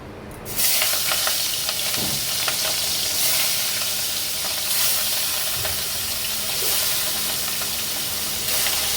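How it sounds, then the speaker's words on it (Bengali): Fish pieces rubbed with turmeric and salt sizzle steadily in hot oil, a loud, continuous frying hiss with no talking. "তেল কিন্তু গরম হয়ে গেছে, এবার মাছগুলো ভেজে নেব।"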